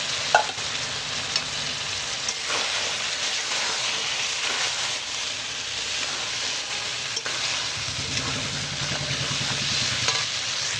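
Onion stalks, potato, tomato and beans fry together in oil in a pan with turmeric, giving a steady sizzling hiss with light stirring scrapes throughout, fairly close and without talk.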